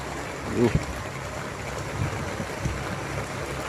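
Floodwater rushes through overflowing street drains beside a hostel during a heavy early-morning downpour at Chowkit, a steady churning wash with a soft thump early on and a voice speaking over it.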